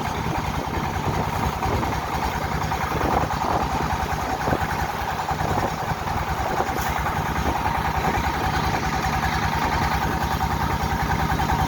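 A boat engine drones steadily and continuously throughout on the Meghna River, an even engine hum with a low rumble and no pauses.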